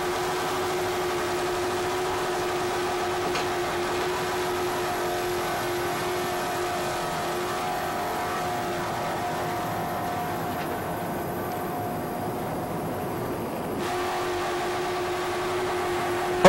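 A racing powerboat from the Brickyard Race Team drones at a world championship event in Atlantic City, New Jersey, its engine holding a steady, sustained tone over the whole stretch with no voices.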